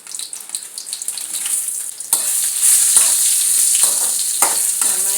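Chilies dropped into hot oil set off a sudden loud, crackling sizzle that continues steadily, with occasional stirring, rising from a quieter background hiss of heated oil.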